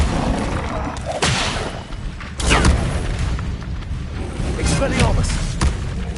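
An Incendio fire spell cast in Hogwarts Legacy on PS5 lets out several heavy, booming bursts over a dense game background, with a voice mixed in underneath.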